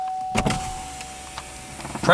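A Cadillac CTS power window motor whirs steadily for about two seconds inside the car, a thin continuous drone with a faint voice and clicks around it.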